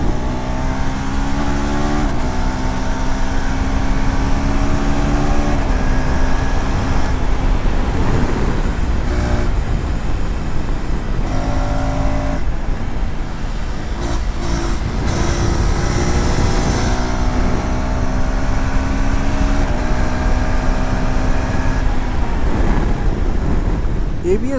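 A KTM ADV 390 motorcycle rides in 4th gear on an open straight. The engine drone is steady and rises and falls, heavily masked by strong wind rush across the microphone throughout.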